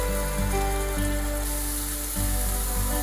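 Onions sautéing in oil for an egg malai masala, a steady close sizzle and crackle running throughout with a faint low hum beneath and no talking.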